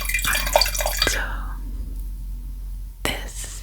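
Wine trickling into a borrowed wine glass as a small pour, a brief close splash with faint glass clinks that fades into quiet before a short knock near the end.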